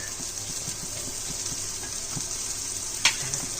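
Spices sauté in a pan for Hyderabadi egg biryani, a steady close hiss of frying with soft rhythmic stirring scrapes and one brief sharper clink near the end.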